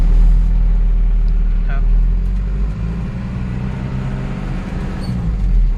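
An Isuzu Dragon Rodeo 4WD pickup climbs a gentle slope in four-wheel drive, its engine a low steady rumble heard from inside the cab, with a few faint rattles and knocks over the drone.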